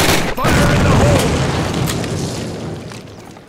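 Grenade explosion in Call of Duty (2003) during US basic training: a loud, close boom bursts out and rumbles, then decays slowly across a few seconds, with a voice faintly audible beneath.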